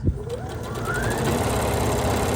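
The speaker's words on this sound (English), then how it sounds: "use the side of my presser foot and simply top stitch around" A sewing machine top stitches around a fabric bucket hat brim, running steadily with a close, rapid mechanical whir and regular needle ticking.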